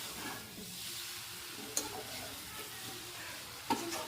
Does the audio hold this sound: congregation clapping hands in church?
no